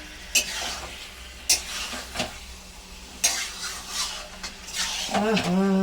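Food being stirred and sautéed in a pan, a spatula scraping in several sharp strokes over a soft sizzle, close by, with a voice briefly heard near the end.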